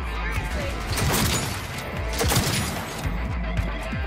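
Gunfire crackles through a firefight in the video game Cyberpunk 2077, with a loud run of sharp shots and impacts mixed into the game's sound, while a voice talks over parts of it.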